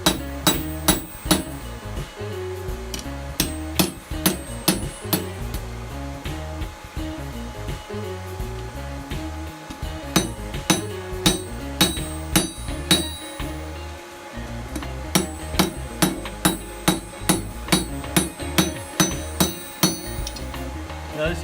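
A blacksmith hammers a forged spoon handle to thin it on the anvil, with sharp, ringing metal strikes that come in quick rhythmic bursts, close and loud, separated by short pauses.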